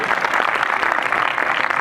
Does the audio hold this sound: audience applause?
yes